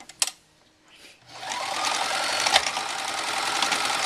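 Old sewing machine running a straight stitch; after a few sharp clicks and a short pause it starts up into a loud, close, continuous whirring buzz that holds steady to the end.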